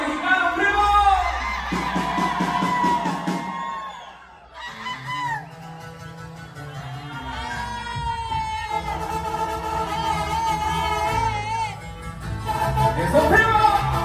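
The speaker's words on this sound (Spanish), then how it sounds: "que se escuche el grito mexicano" Loud, drawn-out Mexican gritos from a crowd, rising and falling in waves, with several voices overlapping in high, honking cries.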